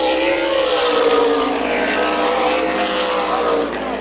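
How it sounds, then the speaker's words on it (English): Super Late Model race cars at Tucson Speedway roar past in a loud, continuous pack, their engines droning and shifting pitch together, with no talk over them. "This is Super Late Models at Tucson Speedway"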